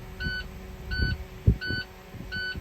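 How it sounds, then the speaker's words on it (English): Truck low air pressure warning buzzer sounding in a cab during an air brake check, four short even electronic beeps about every three quarters of a second over a low rumble and faint thumps. "both my light and buzzer activated no lower than 55"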